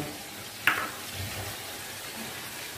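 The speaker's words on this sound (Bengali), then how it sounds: "আর রুই মাছের মুড়োগুলো নুন হলুদ দিয়ে ভেজে নিচ্ছি ভালো করে।" Rohu fish heads frying in oil with salt and turmeric, a steady hiss of sizzling with one sharp crackle, heard alone without talk.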